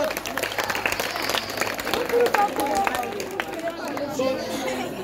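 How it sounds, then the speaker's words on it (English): An audience at a school award ceremony for best JSS3 students claps, with scattered, uneven hand claps mixed into lively crowd chatter and murmuring, at moderate loudness throughout. "Clap for him."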